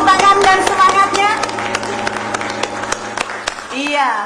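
A studio audience claps at a televised gubernatorial and vice-gubernatorial candidates' debate in Central Kalimantan. The applause is steady and moderately loud, with a host's voice heard over it and a brief musical swell at the end.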